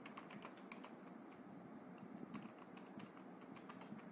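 Typing on a computer keyboard while entering table headings for a web page, a steady run of light, quick key clicks with short pauses, close and fairly quiet over a faint background hum.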